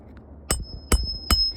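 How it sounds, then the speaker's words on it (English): Three sharp hammer whacks drive a nail into roof shingles during a repair, spaced roughly half a second apart, each a loud close impact with a brief metallic ring. "Give it a couple good whacks to start it."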